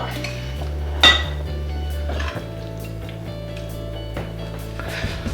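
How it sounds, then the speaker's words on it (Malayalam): A spoon mixes anchovies with chili powder, turmeric and salt in a bowl, with one sharp clink of metal near the start, then soft scraping strokes. A steady low hum runs underneath. "അപ്പോൾ നമ്മളിത് മിക്സ് ചെയ്യാണ് ഒരു സ്പൂൺ കൊണ്ട്"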